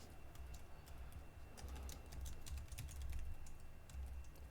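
Keys clatter on a computer keyboard in quick irregular bursts of typing, faint and close, over a low steady hum, with no voices.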